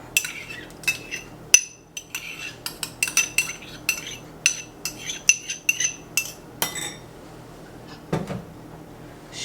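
Chili paste, garlic, sugar, five spice and green onions are mixed with a utensil in a bowl. Irregular close clinks and light scrapes come in quick bursts, with no talking.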